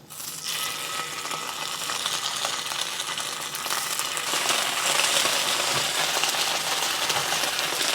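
Tofu pieces dropped into a hot pan for black bean tofu set off a steady, close sizzle that swells and grows louder partway through, with no talking.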